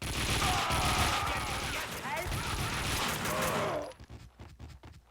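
Gunfire in the video game Max Payne 2, loud and dense for about four seconds with overlapping shots and voice-like tones, then cutting off abruptly to sparse quieter impacts.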